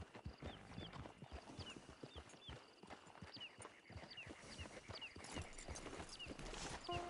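Horse hooves clip-clop in a steady walking rhythm in the video game Red Dead Redemption 2, with light ambient background sound and no voices.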